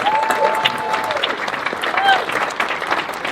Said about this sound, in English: Round of applause for Abraham George, everybody.